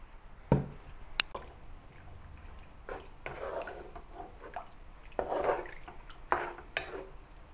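Water goes into a pot of beef for a Malay soy sauce stew, heard as a few soft splashes and sloshes with small clinks and drips in a quiet kitchen.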